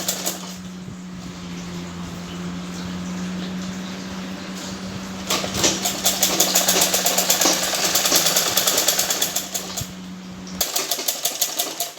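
A sewing machine stitching a blouse gives a steady motor hum at first, then a rapid, rhythmic needle clatter through the middle that stops shortly before the end.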